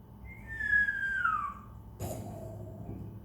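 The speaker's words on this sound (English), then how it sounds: "wait, I heard someone whistle." A single whistled note glides downward and fades over about a second, faint against a low background hum and a brief knock afterward.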